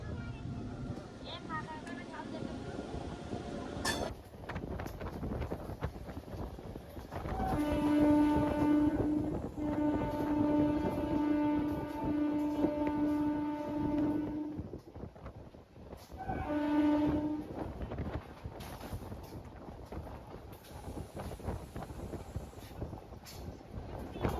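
Bankura Masagram MEMU electric train running after pulling out of a station, a steady rolling rumble with a long sustained horn blast in the middle and a shorter one after, loud and close.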